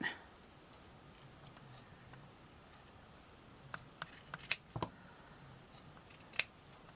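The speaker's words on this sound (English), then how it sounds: "But we need to just trim that down a bit." Scissors trim fabric for an appliqué flower motif, giving a few soft, close snips clustered near the end over a quiet, faint background.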